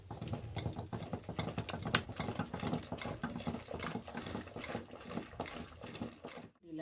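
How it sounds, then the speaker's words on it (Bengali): Dal being crushed and mashed in a pot during home cooking, a steady busy run of close, rapid knocking and scraping strokes that goes on without pause before cutting out at the end. "ডালটা থেঁতে নিচ্ছি।"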